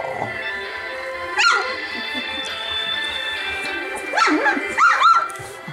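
Young golden retriever puppies whimper and let out a few short yips and barks, with thin whines rising in bursts over a quiet background and some soft human murmuring nearby.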